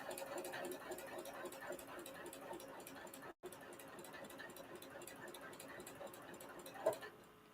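A sewing machine stitches fabric in a steady, continuous mechanical whir with a brief pause midway, running fairly quietly and close without talk over it.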